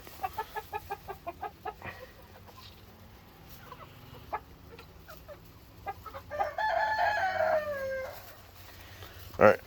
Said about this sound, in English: So this is my Jubilee Orpington.